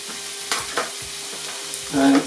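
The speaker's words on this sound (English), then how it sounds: "I'm just going to drop in some of that pancetta" Pancetta sizzling as it drops into a hot pan where vegetables are already softening for a smoked brisket ragu, a steady close frying hiss with a couple of stirring scrapes and a louder burst of sizzle near the end.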